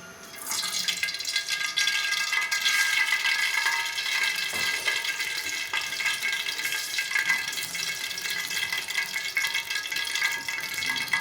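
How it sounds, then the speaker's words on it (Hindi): A cup of oil is poured into a cooking pot on a stove, making a steady, rushing liquid pour that stays fairly loud and continuous for several seconds with no talking. "देचकी को हमने चूल्हे पे चढ़ा दिया, फ्लेम करेंगे ऑन और इसमें डालेंगे हम 1 कप ऑयल का"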